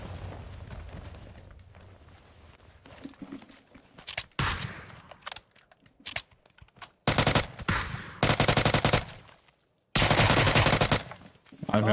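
Rapid automatic gunfire and single shots from a shooter video game, coming in loud bursts separated by short gaps, with footsteps and other game noise under them.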